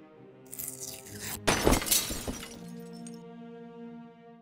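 A stained glass window shatters in the video game Deponia Doomsday, a loud burst of breaking glass with tinkling shards trailing off over a held musical tone.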